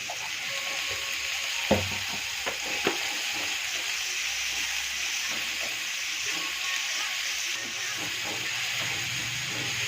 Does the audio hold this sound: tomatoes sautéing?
yes